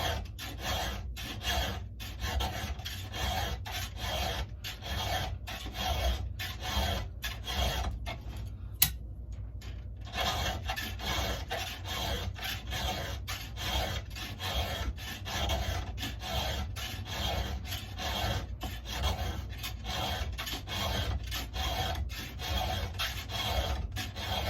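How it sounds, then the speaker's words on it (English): A hand file rasps steadily across the chain of a Stihl MS 441 chainsaw during sharpening, with rhythmic close-up strokes repeating throughout and a short pause partway through. "sharpen your chain till it's sharp"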